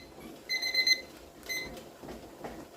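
A kitchen timer beeps in two short rapid bursts while venting a pressure canner of homemade baked beans, with a soft background hiss and low handling noise.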